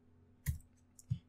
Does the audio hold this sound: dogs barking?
no